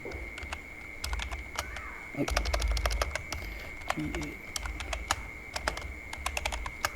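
Keys clatter on a computer keyboard as a Facebook page name is typed, in irregular bursts of quick taps with a few heavier strokes, fairly quiet and close, while someone speaks intermittently.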